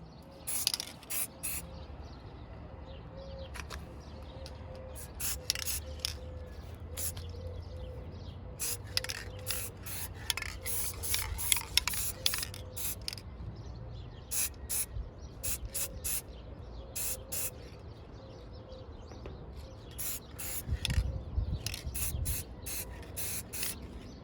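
Silver spray paint hisses from an aerosol can onto a 2005–2009 Ford Mustang A/C vent in repeated short bursts, some quick and clustered, with quiet pauses between.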